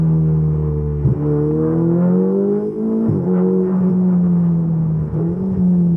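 A Ferrari 488 engine drones steadily from inside the cabin, a loud harmonic hum that rises and dips with three brief shifts or throttle changes as the car cruises.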